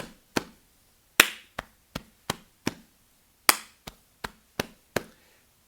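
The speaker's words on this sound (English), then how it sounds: "focus on getting that clap together. Keep the clap with me." Second-grade students and teacher clap together in class, crisp sharp claps in a rhythmic pattern with short pauses between groups, close and clear with no talking.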